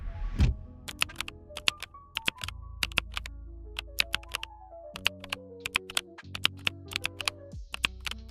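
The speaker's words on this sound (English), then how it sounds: "some keyboard clicks don't match the presses" Keyboard clicks tap out an irregular sequence of sharp keystrokes over sustained tonal notes, fairly close and steady for several seconds.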